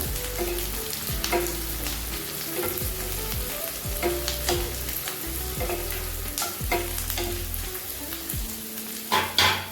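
Curry leaves sautéing in hot oil for an Andhra-style chicken fry, a steady close sizzle and crackle with repeated scraping strokes of a spoon stirring in the pan throughout, no voices.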